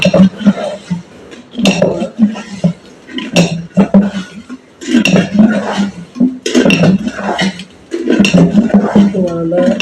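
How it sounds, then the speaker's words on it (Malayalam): Mashed Palayankodan bananas stirred in a pot with a small ladle for homemade wine: irregular close clinks and scrapes of the ladle against the pot, heard under a person speaking steadily. "നന്നായി ഇളക്കി കൊടുക്കണം"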